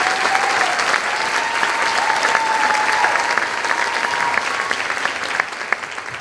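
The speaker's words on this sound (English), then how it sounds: "Let's have one more round of applause for the" Audience applause for a school seventh-grade band at a band and jazz concert: loud, dense, sustained clapping from a full crowd that continues evenly and thins only slightly near the end.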